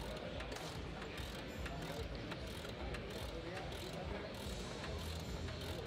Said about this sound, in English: So Greg is torquing down these lugs.